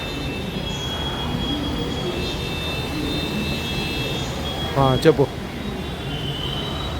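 A Hyderabad metro train at Uppal station rumbles steadily throughout, with a brief louder clatter near the end, while a voice speaks briefly over it.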